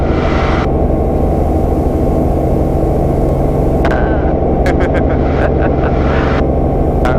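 Loud, steady helicopter rotor and turbine noise fills the whole stretch from inside the cabin, with harmonic hum and broadband roar during a hover-taxi near buildings and an airport apron; brief radio or voice bursts cut in over it.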